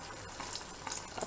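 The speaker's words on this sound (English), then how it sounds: "I'm gonna add some rose water into it" Rose water trickling into a pan of boiling sugar syrup for a sweets sauce, a soft splashing pour with light bubbling, close and fairly quiet, brief and unaccompanied by speech.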